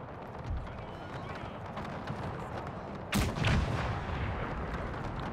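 Napoleonic-era artillery fires in a Napoleon: Total War battle with the Era mod, a loud sudden boom with a rolling rumble amid ongoing distant battlefield noise and muffled gunfire.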